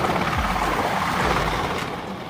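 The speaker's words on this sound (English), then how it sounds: "Coast Guard helicopter." A U.S. Coast Guard helicopter heard as a steady, loud rotor and engine roar with rough, wind-like noise, continuous throughout and easing slightly toward the end.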